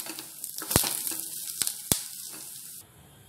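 Onions frying in oil for jeera bajji, a steady broadband sizzle with a few sharp crackles and pops, close and moderately loud, with no talking.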